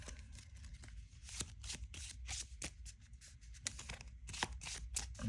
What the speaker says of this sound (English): shuffle 1 Wolverine card from your discard pile into your deck